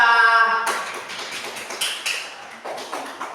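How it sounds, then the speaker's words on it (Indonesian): Students in a classroom clap for a group after its presentation, a short burst of scattered hand claps following a sustained tone, fading into a few separate claps and taps close by. "tepuk tangan untuk kelompok 2"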